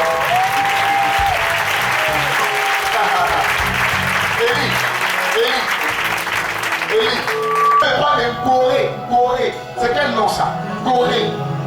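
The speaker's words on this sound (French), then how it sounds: "Est-ce qu'on peut acclamer?" A church congregation at a prophetic Sunday service applauds and cheers loudly for the whole stretch, a dense wash of clapping with crowd voices mixed in.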